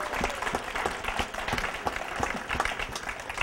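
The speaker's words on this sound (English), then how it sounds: "Can we give him a round of applause?" An audience at a cancer survivor celebration claps for an honoree, a fairly quiet round of applause with distinct individual hand claps, sounding moderately near and without voices.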